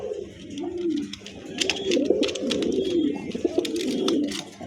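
Pigeons in a showroom coo repeatedly in low, rolling phrases that overlap one another, with soft flutters and small rustles in between and no speech.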